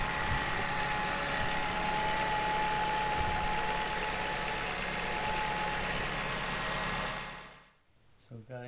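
Alfa Romeo 2.2 JTS car engine idling steadily after its timing solenoids were replaced, a continuous close mechanical hum with a faint whine, cutting off abruptly near the end as a voice begins.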